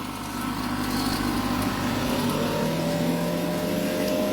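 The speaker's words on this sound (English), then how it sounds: "we'll go ahead and turn on the vacuum pump." A vacuum pump running, a steady close mechanical drone with a constant hum and whine that holds level and unbroken throughout.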